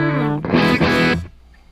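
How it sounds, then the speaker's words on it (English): An electric guitar lead tone from a Line 6 HX Stomp preset plays a short distorted phrase of a few sustained notes, loud and close, then dies away quickly with no talking. "and a lead sound"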